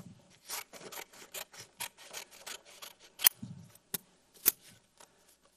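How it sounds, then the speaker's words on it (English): Scissors snip through paper number cards during a kindergarten math lesson at home. The crisp cuts come in a quick, steady series close up with no talk, ending in a few sharper clicks. "anytime you're using scissors at home, friends, that I want you to be really safe"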